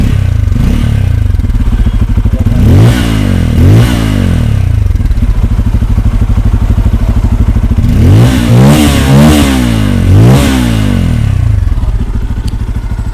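A Bajaj Pulsar F250 motorcycle's exhaust is revved up close, with a loud, steady idle throb broken by repeated quick throttle blips that rise and fall in pairs.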